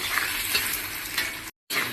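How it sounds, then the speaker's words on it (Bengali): Paneer fries in a wok of hot oil, a close, even crackling sizzle that runs steadily and breaks off for a moment near the end before resuming. "ভালো করে লাল লাল করে একটু ভেজে নিব।"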